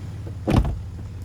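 A single short mechanical whir and thunk as the soft-close latch of a 2021 BMW X7 door draws it fully shut, close by, over a low steady hum.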